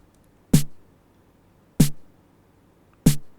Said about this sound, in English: This one's a body snare.